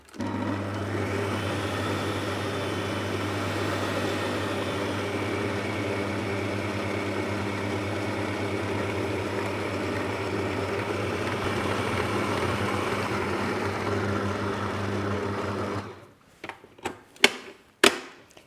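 An electric mixer whirs at a steady, loud pitch for about fifteen seconds while blending butter biscuit dough with vanilla, then cuts out, leaving a few clattering knocks of bowl and beaters.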